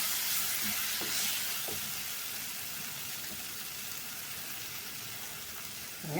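Green chillies and vegetables sizzle in a hot pan while being stirred, before ridge gourd is added, a steady hiss with occasional soft scraping, close up and without voices.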